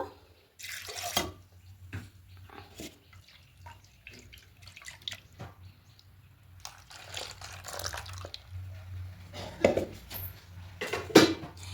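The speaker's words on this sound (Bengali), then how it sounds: "মিক্সার জারের মধ্যে অল্প একটু জল দেব।" A little water is poured into a mixer grinder jar in a home kitchen: quiet splashes and drips with light clinks of the jar, coming in scattered bursts with no talking.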